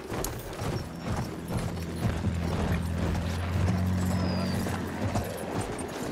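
Horse hooves galloping in the video game Battlefield 1, a steady rhythmic clatter under a low engine-like drone and mechanical rattling, moderately loud throughout.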